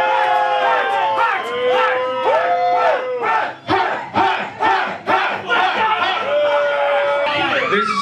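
A crowd at a wrestling show in Brooklyn, New York, roars and yells in unison, close and loud, with repeated surging shouts throughout.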